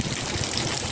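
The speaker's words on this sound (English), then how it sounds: "My God, it's raining." A dense, continuous hiss of heavy rain pours down in Mazatlan, loud and close, with no pauses or voices.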